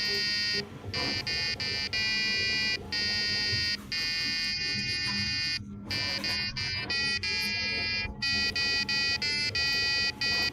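Chiptune rendition of a song in 8-bit style, bright square-wave buzzy tones with steady rhythmic notes playing continuously and loudly, with brief breaks, no talking.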